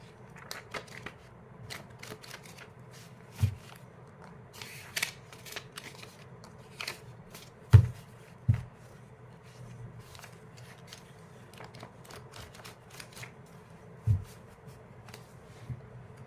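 Tarot cards shuffled and drawn from a deck: soft riffling and light flicks with a few sharper snaps, quiet and close, with no talking.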